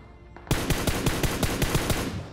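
Rapid, regular BGMI gunfire near a school building: about nine sharp, evenly spaced shots crack out loudly after a brief quiet start, with no talk over them.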